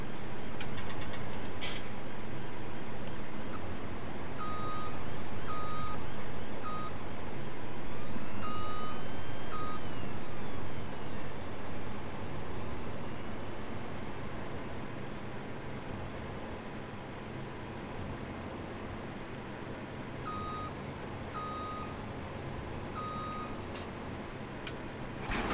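Steady reversing beeps from a vehicle backing up to hitch a header trailer in Farming Simulator 17, pulsing in short regular runs over a continuous engine drone that holds throughout.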